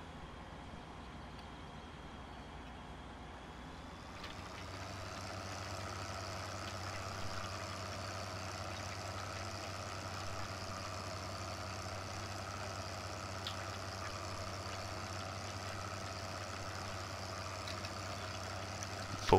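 A tractor engine hums low and steady while pulling a plow to cultivate a field in Farm Sim 2013, a quiet continuous drone that deepens slightly after a few seconds.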